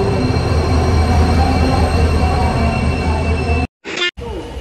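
A train pulls into a station platform, its broad steady rumble and wheel noise filling the air loudly before cutting out abruptly near the end.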